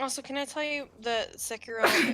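A single sharp sneeze bursts out at the end, loud and close, following a stretch of casual conversation during a livestream.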